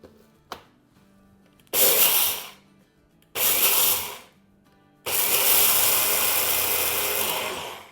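An electric grinder pulverizing cooled moong dal in three loud bursts, each a harsh whirring roar that starts abruptly and cuts off, the last running longest, with a small click before the first.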